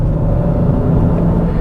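Jaguar X-Type 3.0 AWD estate engine running close and loud, a deep even rumble with a faint steady hum, heard alone without talk.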